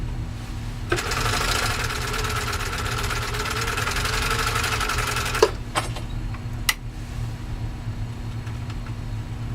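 Husqvarna Viking 21A sewing machine stitching about 8 ounces of full grain leather: a steady whirring run of several seconds over a low motor hum, ending in a few sharp clicks as the needle stops.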